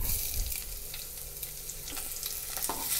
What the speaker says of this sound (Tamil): கடுகு பொரிஞ்ச உடனே நாம் வெங்காயத்தை சேர்த்துக்கலாம்